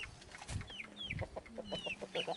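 Free-range Sasso chickens clucking close by, a series of short clucks and soft calls with some higher chirps, no talking.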